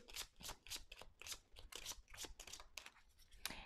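Playing cards being shuffled by hand, a quick series of soft, close riffling bursts in an irregular rhythm, quiet and without speech.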